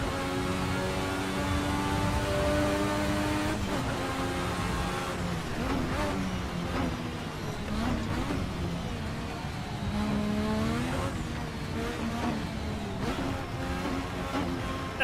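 A 1986 Formula 1 V6 turbo race car engine in the Assetto Corsa racing game, held at a continuous loud whine with repeated upshifts and revving sweeps, alone with no talk.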